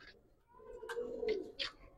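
Hericle pigeons, also called cholligora, cooing at a pigeon sale, a few close low throaty coos with short chirpy bursts, fairly quiet.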